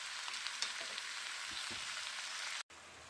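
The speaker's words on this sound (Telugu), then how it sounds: "ఇప్పుడు అంతా ఫ్రై అవుతుంది, దగ్గరికి వచ్చిందండి, మొత్తం ఉడుకుతుంది" Celery and gongura leaves sizzle steadily in a frying pan, a close hiss of tiny pops throughout, broken by a brief silent gap near the end.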